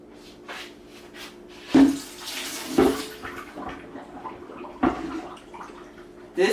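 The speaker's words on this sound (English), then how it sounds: "So I'm just gonna drain some of this liquid off." Cooking liquid from a pot roast is poured off into a pan, a close, splashy pour with a few sloshing surges and knocks of the pot against the pan.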